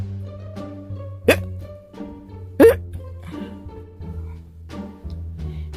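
Two sharp, loud hiccups from a plush toy character, spaced about a second apart, set over a low sustained background tone with faint other sounds.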